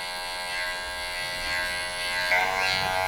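Electric hair clippers buzz steadily at close range during a tapered haircut for thinning hair, a continuous hum of even loudness with a slight shift near the end as the cutting moves across the head.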